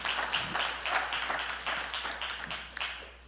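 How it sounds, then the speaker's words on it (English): A church congregation at a Sunday gathering claps hands during tithes and offering, with steady clapping and faint voices underneath at moderate loudness. "Clap your hands for tithes and offering."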